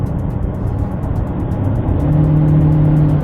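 An Ebro S400 Excellence car accelerating in Sport mode, a steady loud engine drone that swells slightly as the revs climb, heard from inside the cabin with no talking.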